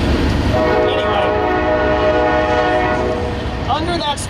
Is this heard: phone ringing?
no